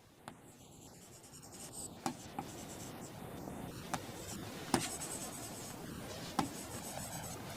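Handwriting on a board during a physics lesson gives soft continuous scratching with a few sharp taps as strokes start and stop, under a quiet room background.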